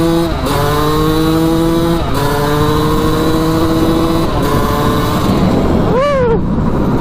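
Suzuki dirt bike engine revving hard while riding on a wet path, loud and close, with rising whines and brief dips as it shifts through the gears.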